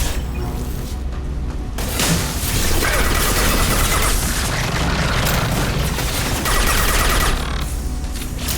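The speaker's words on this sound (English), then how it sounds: "Sniper rifle neutralization." Sniper rifle fire in the video game Mass Effect 2, with loud, dense booming blasts and mechanical clatter filling the stretch alongside heavy combat noise.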